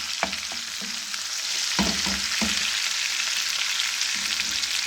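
Tomatoes fry in a pan of dal masala with green chillies, giving a steady bright sizzle broken by a few sharp scrapes and knocks of a spoon stirring, close and alone without voices.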